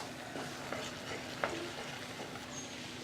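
Garlic chutney fries in a pan with a faint, steady sizzle while it is stirred, and a light scrape or tap of the spoon comes through once near the middle.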